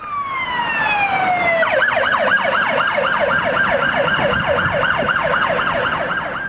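A police car siren blares loud and close, starting as a long descending wail and then switching to a rapid, repeating yelp.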